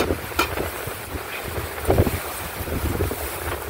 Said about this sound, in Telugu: గాలి చాలా వస్తుందమ్మా.